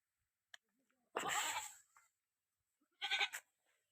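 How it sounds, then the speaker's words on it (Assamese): Local goats at an Assam goat farm bleat twice, a short close call followed by another after a pause, with a faint click before them in otherwise quiet surroundings. "ইয়াত লোকেল ছাগলী দুটা আহি আছে"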